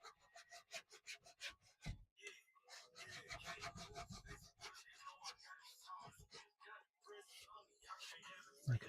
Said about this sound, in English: I was just going to sand this bit off, but I'm here now, why not?